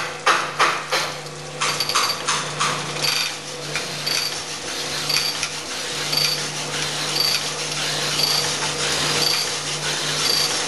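A Harley-Davidson cylinder that is badly out of round is honed with a hone stone, giving steady grinding and scraping with a repeating rhythmic catch. It sounds close and fairly loud with no talk.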